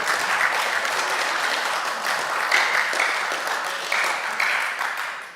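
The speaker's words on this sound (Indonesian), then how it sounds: "Pimpinan, tepuk tangan dulu dong." Members of Indonesia's parliamentary Commission III applaud together in a committee session after approving Supreme Court justice candidates, a sustained round of clapping lasting over five seconds that fades slightly at the end.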